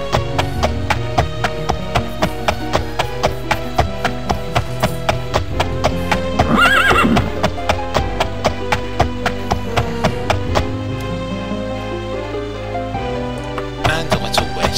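A horse trots under the rider in the video game Daggerfall, its hooves clip-clopping in a steady, even rhythm that is loud and close, with a brief louder burst partway through and no talk.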